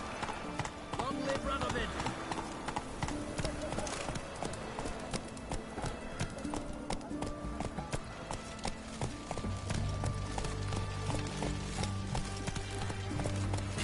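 Roach the horse gallops in The Witcher video game, a steady rapid clip-clop of hooves running throughout over music and ambience, with a voice shouting briefly.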